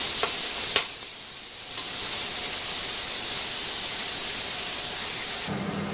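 Chopped onions frying in a pan with salt as the base for a Tangra fish curry, giving a steady close sizzle and hiss throughout with a few brief stirring clicks early on.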